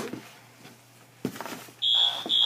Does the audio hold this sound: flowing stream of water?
no